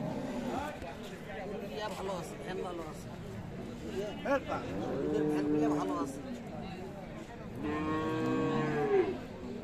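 Dairy cows, including a large Friesian cow, moo several times in drawn-out, low calls at a cattle market in Dinajpur, Bangladesh, heard over steady background noise, with people talking nearby.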